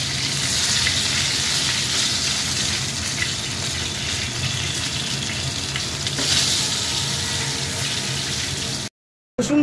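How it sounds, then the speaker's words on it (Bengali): Chicken pieces for dry chilli chicken fry in a small amount of oil, a loud, dense, steady sizzle that holds for several seconds before cutting off briefly near the end. "এই যে এক এক করে চিকেনগুলোকে ভাজতে দিচ্ছি"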